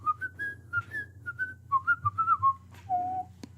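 A whistled melody, a theme from Batman: The Animated Series in the Christmas with the Joker episode, rises and falls in short phrases over a steady low hum and ends on a held note.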